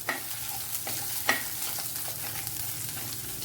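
Two or three green chilies frying in a pan for an anchovy curry, a soft steady sizzle with occasional light crackles and a stir, close and fairly quiet.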